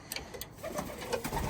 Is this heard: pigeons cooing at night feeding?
yes